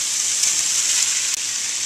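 Rice dumped into a hot frying pan for chicken fried rice sizzles steadily with a bright, hissing crackle, loud and close, with a faint stir or scrape near the end.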